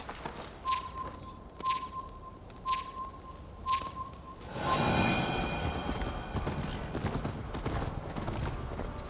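A horse's hooves in the game Assassin's Creed Valhalla: four evenly spaced clip-clop steps, each with a ringing tone, then a surge into rapid, continuous galloping with a rushing whoosh, fairly close.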